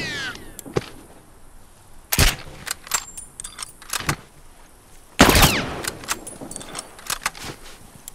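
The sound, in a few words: rifle gunfire in The Last of Us video game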